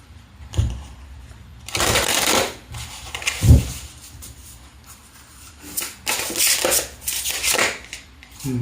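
Tarot cards are shuffled in several short, brisk bursts of riffling and flicking, separated by quiet pauses and a soft thump or two, close to the listener.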